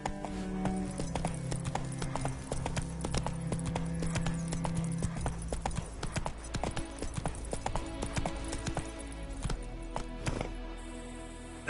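Roach, the horse in The Witcher 3 on PS5, trots along with a steady, even clip-clop of hooves, close and clear over a quiet game soundscape.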